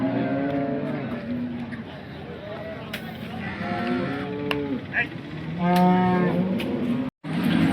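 A large cow at the Sangola cattle market lows several times in long, drawn-out moos against crowd noise, and people talk nearby.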